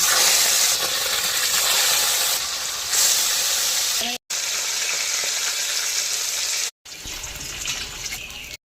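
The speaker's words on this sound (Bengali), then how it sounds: "একে একে মাছগুলি ভেজে নেব।" Fish frying one piece after another in mustard oil in a wok, a steady loud sizzle with broad hiss, broken by brief silent cuts.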